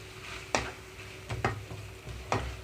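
Tomato and sesame chutney with coriander being stirred in a pan: three sharp, faint scrapes of a spoon stand out at spaced intervals over a quiet, low simmer.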